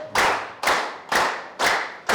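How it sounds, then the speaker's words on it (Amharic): Audience clapping at a business training session in four distinct bursts, each sharp onset fading quickly before the next, loud and close with no voices over it. "እዚህ እስከሚደርሱ ድረስ ማጨብጨብ ግዴታችሁ ነው።"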